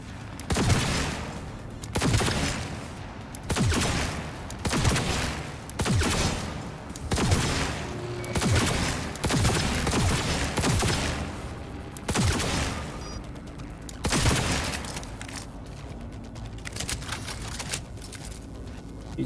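Sustained automatic gunfire in Cyberpunk 2077 rattles in repeated loud bursts over nearly twenty seconds, dense rapid shots with brief pauses between volleys, close and dominant.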